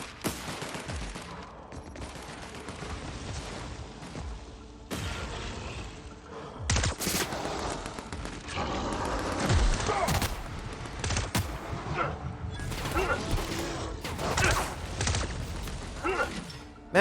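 Plasma pistol fire in The Outer Worlds rings out in repeated sharp bursts with mechanical clanks and thuds between them, loud and irregular over a busy combat backdrop, with faint talk underneath.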